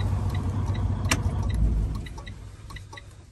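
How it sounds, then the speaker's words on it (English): A truck's engine rumbles low and steady, then swells briefly and dies away as it is switched off with the key, with a few light metallic clicks and key jingles, no voices. "I'll turn my truck off"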